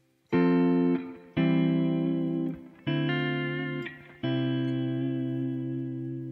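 Four strummed guitar slash chords, each ringing out before the next, the bass notes stepping downward from chord to chord, clear and close with no voices.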